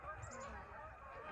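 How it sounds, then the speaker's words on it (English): Geese and ducks honking as they fly north overhead in spring. The calls are faint and distant over outdoor background noise. "Hail the geese, heading north."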